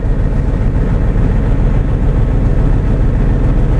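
A Japanese commercial truck's diesel engine idles during a DPR manual regeneration, a loud, steady, close low rumble with no change in pitch throughout.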